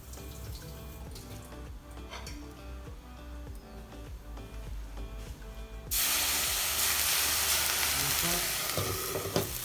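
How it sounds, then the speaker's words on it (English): A tablespoon of water poured into a hot pan holding a pizza slice over medium-low heat, a quiet crackle first, then a sudden loud hiss and sustained sizzle of steam. "get maybe a tablespoon of water and put it in the pan to create steam"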